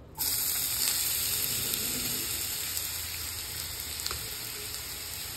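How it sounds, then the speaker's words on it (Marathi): Grated bottle gourd sizzles and fries steadily in ghee in a pan while cooking for halwa, a continuous close crackling hiss with no talking. "दोन चमचे तूप टाकले. हा भोपळ्याचा किस आत्ता शिजले."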